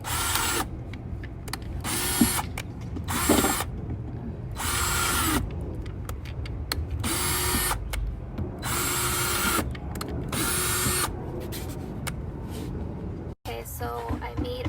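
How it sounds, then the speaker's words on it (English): A power drill bores a series of holes into the side of a plastic compost bin, with repeated short bursts of whirring separated by brief pauses, loud and close, and some talk in between. "So we're just gonna make a few holes around the side."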